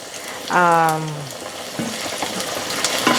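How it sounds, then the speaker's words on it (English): Onions frying in a pan for a spaghetti and beef sauce give a steady crackling sizzle, with a short voice-like tone near the start and faint stirring noises later. "I'm going to just add the onions into it, and I'm just going to let it fry for a little bit"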